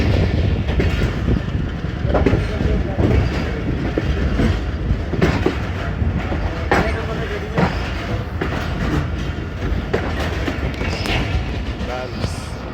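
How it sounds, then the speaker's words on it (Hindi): A train stands at a station platform during maintenance work, with a steady rumble, clanks and knocks of railway cars, close and continuous, while people talk in the background. "तो प्लेटफार्म नंबर 5 पे हमारी ट्रेन को लिया गया है"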